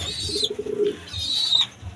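A pigeon with taped wings flaps and struggles to fly, making brief fluttery wingbeats mixed with a few faint chirpy calls, close and fairly quiet.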